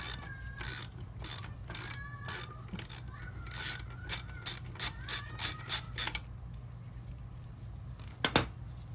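A mechanic's ratchet clicks in bursts while loosening the front wheel nut of an Isinwheel S10 Max electric scooter, with rapid close pawl clicks, short pauses and a final quick burst.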